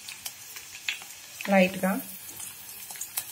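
Curry leaves and asafoetida hit hot oil for a mango and carrot chutney tempering, giving a sharp sizzling burst midway, with soft stirring and clinks around it and a brief word spoken.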